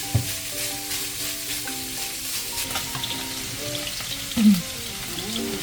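Sautéing in a pan with pepper and salt for ginataan labong: a soft, steady sizzle and light stirring throughout, with a brief louder scrape or clatter near the end.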